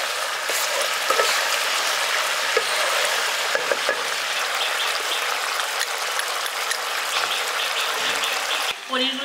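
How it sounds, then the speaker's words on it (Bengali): Paneer in a creamy malai gravy bubbles in a pan, giving a continuous hissing simmer with small pops and occasional clicks throughout. "এবার এটাকে একটু 5 মিনিট ফুটতে দিচ্ছি।"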